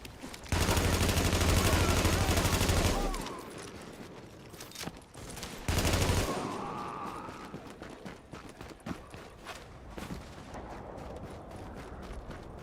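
Video game gunfire arriving as two loud sustained bursts of rapid shooting, separated by quieter stretches of scattered individual shots and clatter.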